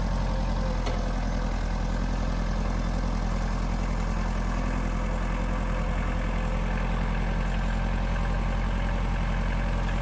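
A steady, loud engine idles continuously with a low rumbling drone, unchanging throughout and with no voices.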